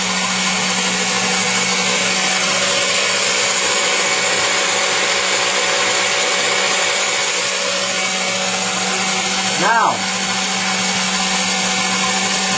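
A blender running on low, grinding nuts into nut butter, whirs steadily and loudly from start to finish, a brief louder burst breaking in near the end and a single spoken word at the start.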